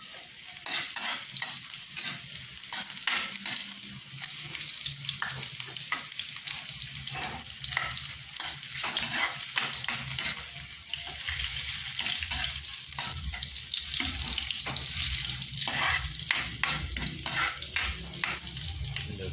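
Bottle gourd (upo) cooks in a pan with a dense, continuous sizzle, up close, broken by frequent stirring scrapes and clicks of the utensil.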